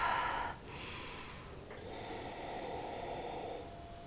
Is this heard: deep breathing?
yes